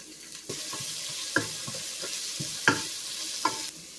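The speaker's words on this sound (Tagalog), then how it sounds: "Igisa na nato ang onion. Isunod na nato ang garlic." Onion and garlic sautéing in a pan for pork belly humba, a low sizzle broken by several sharp scraping and clanking stirs of a utensil against the pan, no talking.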